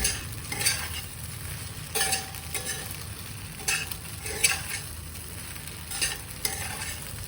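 Idli pieces are tossed and mixed with masala, sugar and plenty of oil in a hot pan: repeated scraping stir strokes every second or so over a soft, continuous sizzle, close up with no talking.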